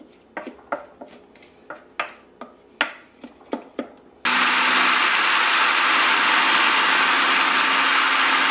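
A food processor blends chimichurri sauce. Several sharp clicks and clatters from the machine come first, then the motor runs loud and steady in a continuous whirring roar for the rest.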